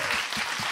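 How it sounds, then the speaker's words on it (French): A television studio audience claps in a short, brisk burst of dense applause, close and steady. "On peut applaudir Flamme Kurt."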